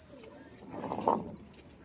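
Pigeons cooing in a loft housing breeding pairs, a soft low coo swelling briefly near the middle of a quiet, steady room tone.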